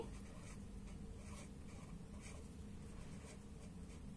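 Soft, steady scratching of handwriting with a pen or pencil on paper, continuous and close, with faint rhythmic stroke accents throughout and no voices.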